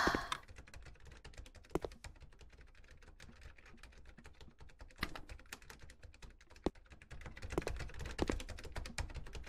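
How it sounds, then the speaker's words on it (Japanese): Fast, steady typing clatters on a computer keyboard, with dense clicking throughout and occasional harder key strikes standing out, fairly close but not overpowering. "タイピングクソうるせえ"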